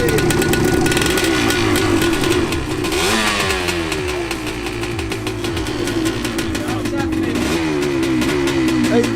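A two-stroke motorcycle engine runs steadily near at hand, idling with a buzzy tone and rising in several revs, while people talk over it.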